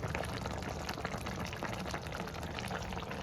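Rohu fish curry with cauliflower and potato boils hard on a high flame, a steady, dense bubbling and simmering that stays close and constant throughout, with no voices.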